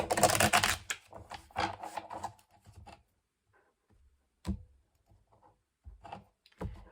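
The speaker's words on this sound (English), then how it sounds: "we'll do one last shuffle here." Quick riffling and soft slaps of tarot cards being shuffled, a burst of dense rustling followed by a few sparse taps and flicks in a quiet room.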